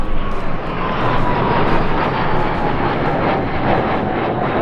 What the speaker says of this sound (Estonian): Reaktiiv.